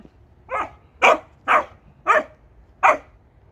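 Dogs at play let out five sharp, evenly spaced barks, close and clear over a quiet background, with no talking.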